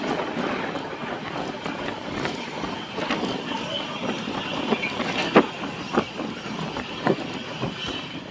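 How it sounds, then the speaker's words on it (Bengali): Sikkim Mahananda Express rolling through the Duars tea-garden country, a steady dense rumble of wheels and carriage noise with a few sharp clanks and knocks from the track, continuous and fairly close throughout. "আর আমাদের ট্রেন ছুটে চলেছে ডুয়ার্স।"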